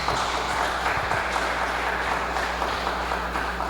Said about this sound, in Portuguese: As palmas engrandecem Jesus.